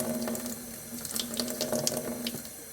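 Tap water runs steadily from a faucet into a sink and splashes over a thumb held under the stream, a continuous close hiss with small irregular splatters.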